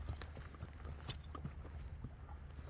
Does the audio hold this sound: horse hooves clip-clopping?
yes